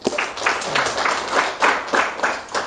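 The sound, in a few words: audience applause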